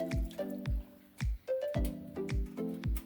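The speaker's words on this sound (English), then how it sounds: "You then go ahead and add water" Water pours and drips into a pot of cooking okra stew in short bursts, with splashy gurgles repeating about every half second, close and fairly quiet.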